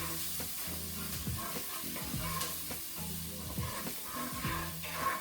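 Onions and peppers sizzle in a pan, a continuous close hiss layered with soft, rhythmic stirring strokes and a low steady hum underneath.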